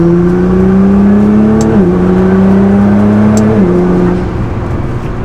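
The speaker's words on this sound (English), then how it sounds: "we'll get on the highway, give it a little bit of gas" Nissan GT-R with a power mod accelerating hard on a highway, a loud close engine drone rising steadily in pitch through two gear shifts, then easing off.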